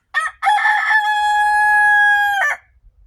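A rooster crows loudly and close by, one long drawn-out call held for about two seconds, with no voices.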